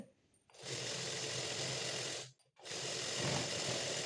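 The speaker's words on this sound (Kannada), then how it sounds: "ನೋಡಿ ಈಗ ನಾನು ಸ್ಟಿಚ್ ಮಾಡ್ತಾ ಇರೋದು" A sewing machine stitches a fall onto a saree in two steady, close runs of rapid whirring, the second following a brief stop.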